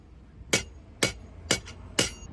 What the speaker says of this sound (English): So then he hit it with a hammer.